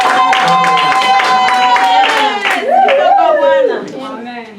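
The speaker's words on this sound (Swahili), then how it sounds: "Tutachapa sana makofi na vigelegele kwa Bwana." A church congregation at a Sunday service claps rhythmically while voices ululate and sing over it, loud and close, with the clapping carrying under the vocal trills.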